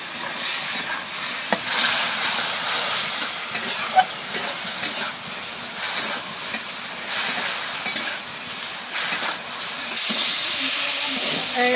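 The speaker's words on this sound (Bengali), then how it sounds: "ওই যে ধুয়ে রাখা শুটকি মাছ, মশলার সাথে মাছটা কষানো হয়ে গেল।" Dried fish frying with spices in a pan gives a steady, close sizzle and hiss, with stirring scrapes through most of it and a louder burst of sizzling near the end.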